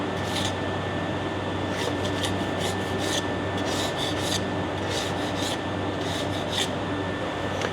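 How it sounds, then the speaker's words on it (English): Steady rhythmic scraping rasps across a grimy mini excavator cover panel, repeated strokes close and fairly loud over a constant hum of background noise. "I should probably scrape the gunk off of it first."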